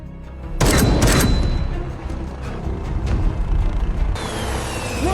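A helicopter explodes after being shot at in a film action scene, giving a loud burst of blast and crackling debris that rolls on as a sustained rumble with a rising whine near the end.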